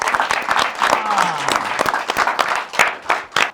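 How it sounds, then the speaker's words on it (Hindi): The fans' corner audience of a cricket discussion show claps for themselves, sharp scattered hand claps rising and falling close by, with a voice murmuring through the middle. "फैंस कॉर्नर में एक बार खुद के लिए तालियां बजा दो यार"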